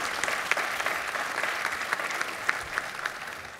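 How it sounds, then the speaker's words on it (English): Steady applause from a conference audience thanking a panel of speakers, a dense even patter of many hands with a few sharper claps standing out, heard alone at moderate distance. "If you can give them a warm round of applause."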